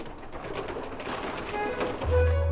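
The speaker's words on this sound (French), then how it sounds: "Moi, j'adore les pigeons." Domestic pigeons raised for meat coo in their loft, with a low soft cooing heard under steady background noise and a deeper coo near the end.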